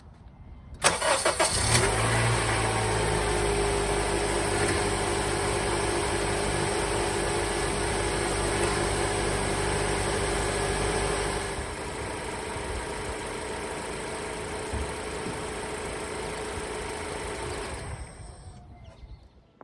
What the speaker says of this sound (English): I'm gonna start the vehicle up and turn it lock to lock now.